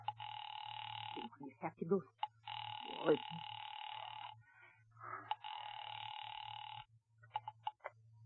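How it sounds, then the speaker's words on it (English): A vintage telephone rings out in repeated long bursts on the line to a police department, with a low steady hum underneath and voices talking between the rings. "Ringing the police department."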